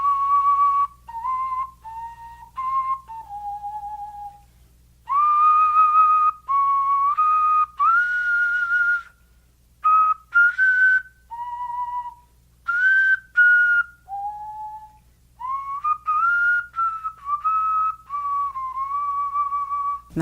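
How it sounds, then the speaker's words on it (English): A woman whistles through cupped hands, producing a breathy, flute-like melody of sliding and held notes in phrases separated by brief pauses, clear and close with no talking. "has been hand whistling since she was 6 years old"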